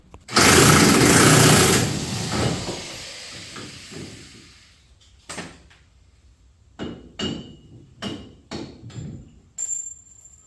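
An impact wrench working a big nut on a Humvee body lift: a loud burst of hissing air and rattling hammering up front, then a string of short, sharp mechanical clacks and bursts at irregular intervals, close by.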